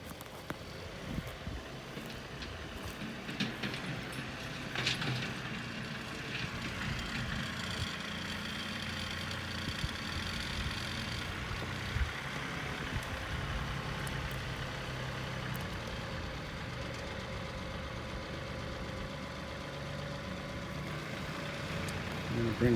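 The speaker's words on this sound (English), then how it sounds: "And here comes Miss Sky with the tractor." A John Deere tractor engine runs steadily at a low idle throughout, moderately distant and fairly quiet, with a few clunks and bumps during downed tree cleanup.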